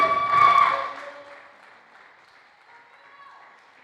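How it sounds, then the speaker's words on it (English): Indoor audience applause for the winning racer at an event in a domed venue, a brief burst of clapping loud at first then fading into a softer crowd murmur. "A round of applause for Leo Faddy."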